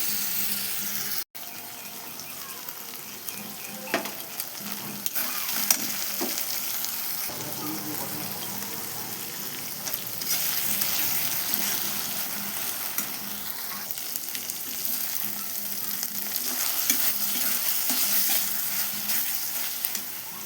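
Mutton masala with ground chili paste sizzles steadily in a pan as the oil separates, a dense close frying hiss with scattered scrapes and clicks of stirring across twenty seconds.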